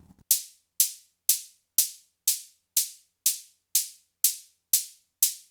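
An offbeat hi-hat layered with a short, bright transient, striking eleven times in a steady, even rhythm, each hit crisp with a fast decay and little low end, played alone.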